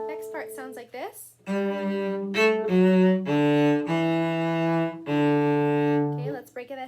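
Cello playing the next part of May Song: a sequence of sustained, bowed notes, each held for about a second, clear and close, with a brief voice-like phrase at the very start.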